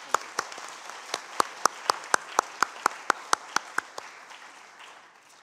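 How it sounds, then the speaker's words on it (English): Audience applause after a talk at a yoga for peace conversation event, a brief round of clapping with distinct sharp claps over a softer patter that fades toward the end. "Another round of applause."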